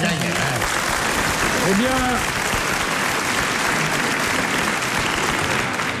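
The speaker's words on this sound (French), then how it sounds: "vous avez applaudi" Studio audience applause for a contestant on a French radio quiz show fills the whole stretch, loud, dense and steady, with a voice speaking briefly over it near the start.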